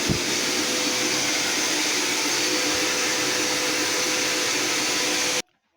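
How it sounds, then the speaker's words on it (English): A vacuum cleaner roars steadily and loudly for about five seconds while sucking water out of a Hotpoint appliance's trap, then cuts off abruptly into silence. "now hoovering out the trap"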